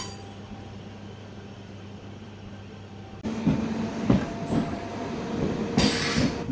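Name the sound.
MEMU train departing Gundlakamma station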